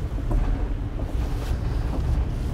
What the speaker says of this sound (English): So just using the engines.